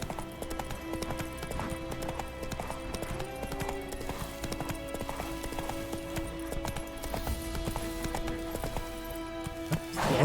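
Roach, Geralt's horse in The Witcher 3, gallops with a steady, rapid clip-clop of hooves close up, over game music and ambience, with a brief whinny possible and a louder burst at the very end.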